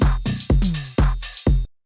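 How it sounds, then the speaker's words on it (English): A long, sustained metallic sample in a lo-fi house beat is ducked by a fake sidechain effect, pumping back in four times in a rhythmic swell-and-drop pattern that cuts off abruptly at the end. "if you just have this long metallic sound going over top of the whole thing"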